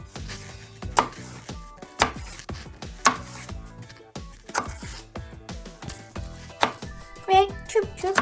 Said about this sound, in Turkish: Evet arkadaşlar şimdi domateslerimizi keseceğiz